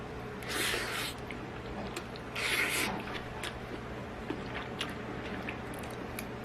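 Close, wet chewing of jjolbokki with chewy wheat rice cakes in a spicy broth, two louder mouthfuls of smacking and squishing followed by softer scattered chewing.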